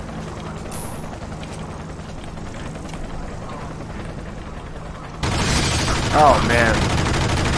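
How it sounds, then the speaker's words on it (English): Gunfire in the video game Enter the Matrix fires at a window, with bursts of shots over a steady game din that turns louder and harsher near the end, and someone speaks briefly. "You actually need to shoot the window first"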